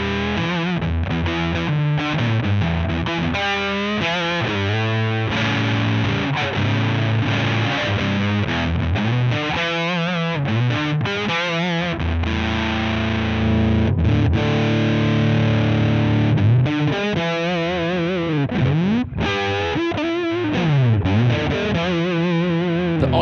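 Electric guitar through a muff-style fuzz pedal, heavily fuzzed with thick, saturated sustain, playing riffs and held chords continuously with no voices.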